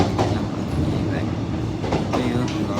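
A train rolls along its rails with a continuous rumbling clatter and occasional rhythmic clicks, heard from inside the carriage while people talk over it.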